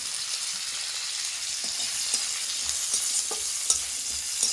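Long beans and chopped carrot stir-fry in a pan with a steady, close hiss of sizzling oil, broken by soft scrapes and taps of a spatula.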